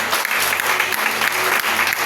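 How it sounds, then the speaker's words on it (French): A church congregation claps and cheers in praise of the Lord, a dense, loud roar of applause from a crowd that keeps going without a break. "Est-ce qu'on peut acclamer le Seigneur?"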